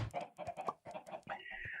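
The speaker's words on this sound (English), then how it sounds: "Ooh, chicken." A Minecraft chicken gives a few quick, close clucks in a short rhythmic burst, heard alone without any talking.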